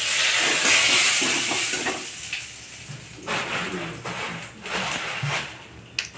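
Two bay leaves hit hot oil in a kadai. The sizzle is loud at first and eases into an uneven hiss with faint background noise and no clear talk.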